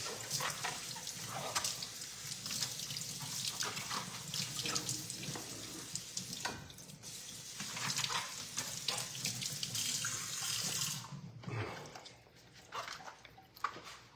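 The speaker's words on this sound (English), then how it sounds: "Let me wash these off." Vegetables rinsed under a running kitchen tap, a continuous splashing rush of water into a sink for most of the stretch, then cutting off near the end, fairly close with no speech.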